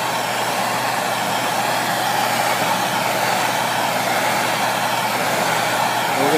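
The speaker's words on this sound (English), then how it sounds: "So I'm going to take a propane torch and we're going to heat it up." A propane torch heats a bare piece of aluminum, giving a loud, steady, close-up roaring hiss of flame that holds unchanged throughout.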